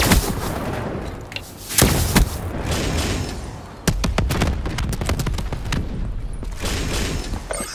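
A Hellstorm missile strike in Call of Duty: Black Ops III multiplayer lands as a series of booming blasts and sharp cracks, loud and close, with rapid gunfire between the impacts.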